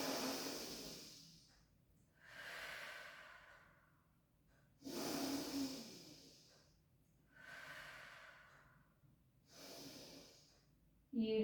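Slow, deep breaths during a pilates rehab session for mobility and pelvic stability: five long, airy inhales and exhales in a steady rhythm, close and fairly quiet, with no talking.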